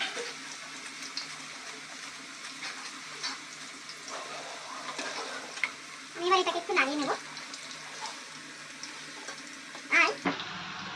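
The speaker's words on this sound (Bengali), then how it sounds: "লো টু মিডিয়াম আঁচে রেখে চিপসগুলো ভাজতে হবে। আমি এরকম করে ভাজছি।" Banana chips frying in oil over low to medium heat, giving a steady crackling sizzle throughout with a few brief louder bursts and a short voice-like sound near the middle.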